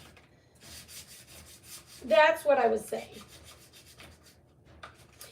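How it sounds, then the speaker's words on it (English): Craft kit pieces are sanded by hand with quiet, rhythmic rubbing strokes, and someone speaks briefly partway through. "Okay, so I am sanding all of these."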